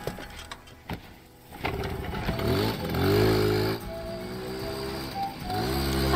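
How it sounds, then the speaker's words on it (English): A scooter ridden in the video game Alba: A Wildlife Adventure, its small engine starting up with a few clicks, then revving and buzzing steadily nearby with rising and falling pitch. "Hop on my scooter."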